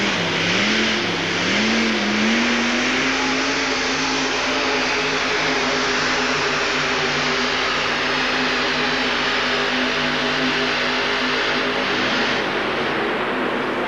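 A high-horsepower USHRA competition vehicle engine from 1989 revs loud and close, its pitch wavering up and down at first before settling into a sustained, roaring drone.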